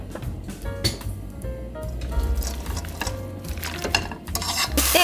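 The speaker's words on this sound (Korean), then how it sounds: "볶기 시작할 거예요. 센불로 볶아주세요." Vegetables stir-fried over high heat in two spoonfuls of cooking oil: a constant close sizzle under the repeated scrape and clatter of a utensil against the pan, with no talking.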